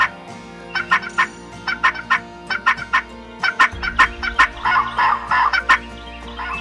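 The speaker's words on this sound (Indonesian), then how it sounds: "Ayo, Kalkun." A turkey gobbles in quick repeated bursts, a series of rapid rattling calls that come in clusters close to the listener, loud and clear over a faint steady background hum.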